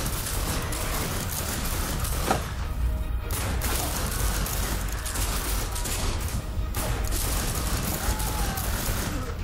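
Gunfire in the video game The Darkness II, with rapid, continuous shots and crashes forming a loud, dense barrage through the whole stretch, with a voice faintly underneath.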